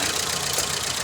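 A freshly rebuilt Speranza 516 car engine runs at a steady, loud idle with a slightly knocking, rough texture, heard up close on its first start after a full overhaul.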